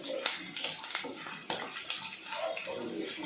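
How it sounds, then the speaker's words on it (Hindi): Chana dal and urad dal frying in a pan for sevai upma, a soft continuous sizzle with occasional light clicks and stirring scrapes, fairly quiet and close. "चना दाल और उड़द दाल, तो अच्छे से थोड़ा सा फ्राई कर लेते हैं।"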